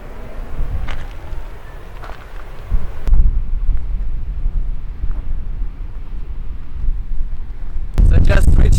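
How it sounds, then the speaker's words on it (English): Strong wind buffets the microphone on a windy mountain top, a steady low rumble throughout that swells into a louder gust at the end, with a person talking faintly beneath it. "So I just reached the top of the mountain here and it's so windy here."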